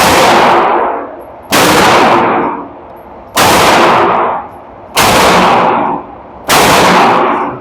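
Five loud, evenly spaced gunshot blasts from a Kustomworx Vulcan pistol at an outdoor shooting range, each a sharp crack followed by a ringing decay before the next.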